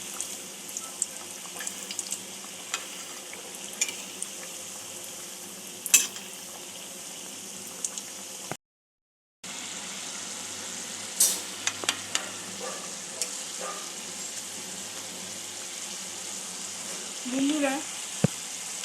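Banana flower chops deep frying in hot oil, a steady close sizzle running throughout with occasional louder crackles and pops, broken by one brief silent gap.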